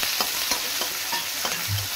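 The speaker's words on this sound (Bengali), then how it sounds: "কুচিয়ে রেখেছিলাম পেঁয়াজ আর কাঁচা লঙ্কা দুটো একসঙ্গে আমি দিয়ে দিলাম তেলেতে।" Chopped onion and green chili frying in hot oil, a steady crackling sizzle broken by regular scrapes of stirring, close and clear with no voices.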